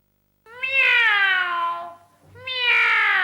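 A cat meows twice, close and loud, each a drawn-out wailing cry with a short pause between them.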